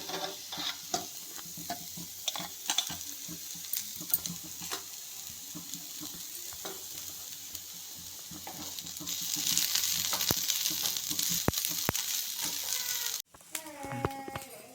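Onions and green chillies sauté in oil for an egg poriyal with a continuous soft sizzle, broken by scattered clicks of stirring. Hiss swells toward the end before a sudden cut, and a voice speaks faintly at the close.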